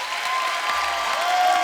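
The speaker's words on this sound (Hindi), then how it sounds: "जोरदार तालियों से स्वागत कीजिए" A studio audience at a TV comedy show breaks into loud, sustained applause, a dense steady clapping that holds for the whole short stretch.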